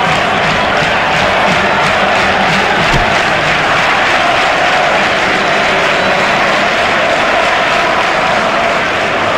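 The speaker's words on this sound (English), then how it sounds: "He deserves the applause from the crowd today" A loud, steady roar of crowd noise and applause fills a cricket stadium in EA Cricket 18, a dense wash of cheering that holds unbroken throughout with no clear voices above it.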